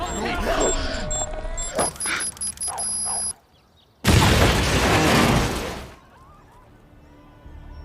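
A detonator-triggered explosion in an action film erupts as a loud, sustained broadband roar lasting about two seconds after a brief silence, following shouted dialogue and tense music.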